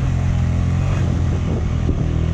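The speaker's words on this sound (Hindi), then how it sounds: "यहाँ पे आके बाइक की आवाज़ बिल्कुल चेंज होगी, क्योंकि काफ़ी ज़्यादा हाइट के ऊपर हैं" A motorcycle engine labors in first gear at high altitude in thin, oxygen-poor mountain air on the road to Shogran Valley, KPK, giving a steady, loud, continuous drone with low harmonic rumble and no talk over it.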